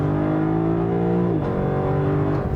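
A 2018 Lexus LC500 with a limited slip differential accelerating, its engine note climbing in a strong steady rise before a sudden drop at a gear change, then pulling again, loud and close.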